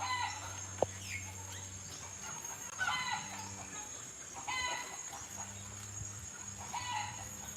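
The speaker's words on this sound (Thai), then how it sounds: "อุ้ยมีไก่เหรอ มีชิคเก้นเหรอ" Chickens cluck in short, scattered bursts against a quiet farmyard background, with a low hum and one sharp tap early on.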